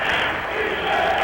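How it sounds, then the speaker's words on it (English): A basketball crowd at a McPherson College versus Southwestern men's game roars a defense chant, a dense, loud wall of voices filling the gym without a break. "There's a defense chant."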